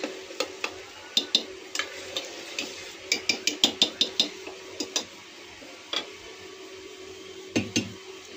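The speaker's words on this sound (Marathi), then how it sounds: "आता ही भाजी मॅश केलेली ह्याच्यात टाकूया आपण. आणि चांगलं हलवून घेऊया." Mashed vegetables stirred into sizzling pav bhaji masala in a pan, with a quiet steady sizzle under repeated sharp spoon clinks and scrapes against the metal, irregular and close.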